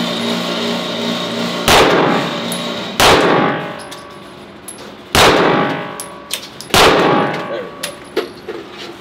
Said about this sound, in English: Whenever you are ready, go ahead, squeeze the trigger